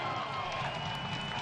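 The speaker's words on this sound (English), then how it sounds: "this crowd at BBVA Field has something to cheer about" A distant crowd at BBVA Field cheering after a goal in a Birmingham Legion FC versus Louisville City FC soccer match, a brief, faint, steady roar of many voices.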